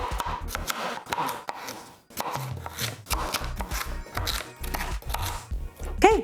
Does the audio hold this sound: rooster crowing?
no